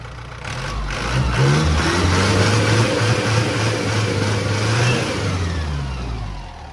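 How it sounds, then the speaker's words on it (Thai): A 110-horsepower truck engine runs steadily and close by, a deep low rumble that swells slightly as it revs and then settles, with no one speaking. "นี่คือสภาพเครื่องนะครับ เครื่องนิ่มๆเลยนะครับ"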